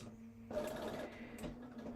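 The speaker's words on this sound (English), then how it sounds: "I both back stitched and then I did my lock stitch on that." Domestic sewing machine stitching a holiday placemat, running back and forth to backstitch and then lock the seam; a quiet start gives way at about half a second to a steady, close mechanical whir with a faint rhythmic stitching pulse, no talk.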